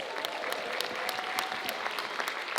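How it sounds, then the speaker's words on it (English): An audience in a hall claps in a dense, even burst of applause, moderately loud with scattered sharper claps standing out, no talking over it. "So give yourselves a round of applause"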